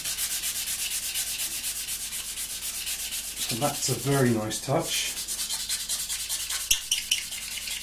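Rhythmic back-and-forth sanding rasps across a surface, steady and close, with someone speaking briefly over the scraping midway through.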